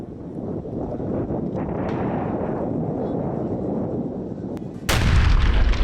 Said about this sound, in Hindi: आप देख सकते हैं गाजा पर बमबारी अब एक बार फिर से शुरू कर दी है इजराइल ने।